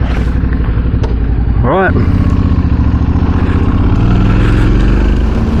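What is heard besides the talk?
adventure motorcycles riding, Yamaha T7 and Royal Enfield Himalayan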